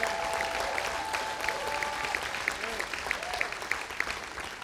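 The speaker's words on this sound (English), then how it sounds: "give a crazy round of applause for our mothers here today" Church audience clapping for the mothers present on Mother's Day, a dense, sustained round of applause from a crowd, steady and even from start to end, heard from within the room.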